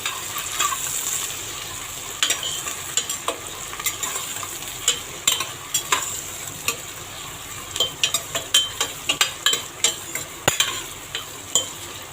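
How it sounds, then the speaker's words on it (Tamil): Onions and green chillies sautéing in hot oil for prawn biryani made with parboiled rice, a steady close sizzle with a rhythmic series of spoon stirs and scrapes against the pan, no talk. "நம்ம அதுக்கு தகுந்த வெங்காயம், பச்சை மிளகாலாம் போட்டுக்கலாம். நல்லா வதக்கிடலாம்."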